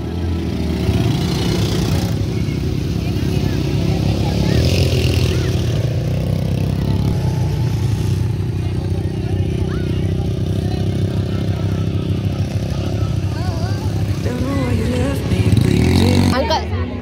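Motorcycle engine revving with extra throttle outdoors at a farmhouse, a steady loud low drone that rises and falls, under near-continuous talking.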